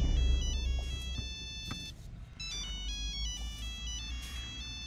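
A telephone rings with a bright electronic ringtone, repeating in bursts of high tones over low background noise.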